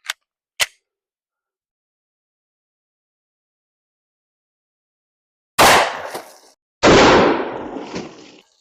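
Two loud, sharp gunshots from a Glock 30 pistol firing Speer G2 .45 ACP +P rounds into heavy denim and water jugs, each with a ringing decay, preceded by two faint clicks.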